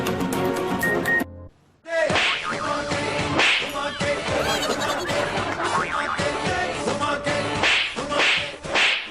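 Sharp slaps land repeatedly as a woman strikes people, loud cracking hits over a dense, busy background with music after a brief drop near the start.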